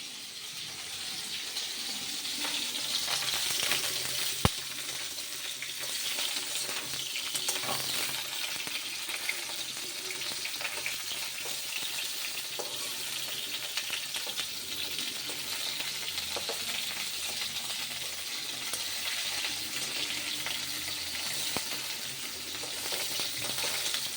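Spices frying in oil in a pan for a Bengali fish curry made without chopped onion: a continuous, close, crackling sizzle that holds steady throughout, with one sharp tick partway through and no talking.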